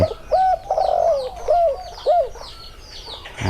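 A spotted dove coos in a short series of soft, rounded notes, close and clear, with faint chirping from other birds in the background.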